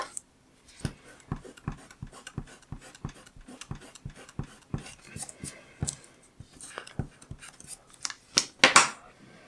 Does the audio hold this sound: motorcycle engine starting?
no